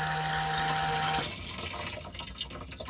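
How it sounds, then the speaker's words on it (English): The flush of a cassette toilet in a 2021 Auto-Sleeper Warwick Duo motorhome: loud rushing water and pump whir for just over a second, then it cuts off and leaves faint trickling and small clicks. "push to flush on the blue button"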